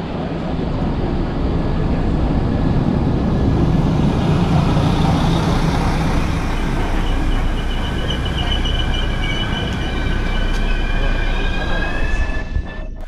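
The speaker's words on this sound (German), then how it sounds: "wir schauen uns aber erstmal die Einfahrt meines Zuges hier im Erfurter Hauptbahnhof an" RE10 regional train pulling into Erfurt main station: a loud, close rumble of rolling wagons fills the platform, with rising high-pitched wheel squeal toward the end as it brakes to a stop.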